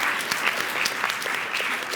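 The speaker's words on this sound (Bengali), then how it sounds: "সবাই আবারও জোরে একটা তালি দিই ফর দম" Studio audience claps loudly for the film Domm, with Afran Nisho and Puja Cherry, during a talk show; a dense, even burst of many hands lasting a couple of seconds with no voices over it.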